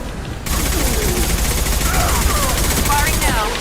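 Sustained gunfire from a Mass Effect 2 firefight against Krogan, a loud and dense burst of rapid shots that rolls on without a break for several seconds.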